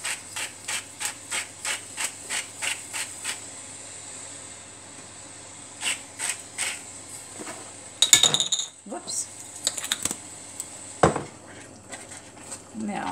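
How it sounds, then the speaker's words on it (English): Kitchen garlic grinder crushing garlic for a bolognese: a quick run of about a dozen sharp, evenly spaced ratcheting clicks, then a few more bursts of grinding clatter among pan and utensil noises, close and moderately loud. "I put a grinder on this one. And just grind up some more garlic"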